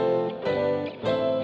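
Sustained chords built on tones of the Phrygian scale ring out for a metal-style harmony demonstration, dense and full, changing roughly twice in quick succession with no speech.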